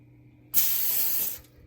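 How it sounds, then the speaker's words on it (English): Cooking oil sprayed onto a pan in a kitchen while making leche frita: one steady, close hiss lasting about a second, starting abruptly and tapering off. "we're going to lightly spray the pan with oil to transfer our mixture in"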